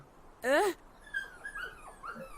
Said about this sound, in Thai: เอ๊ะนั่นมันเสียงอะไรอ่ะ นั่นมันลูกหมานี่นะ